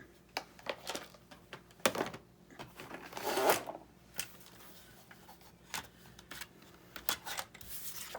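Scissors cut paper for a 6x6 paper pad pocket project in irregular close, crisp snips and rustles, with short pauses between the cuts and no talking.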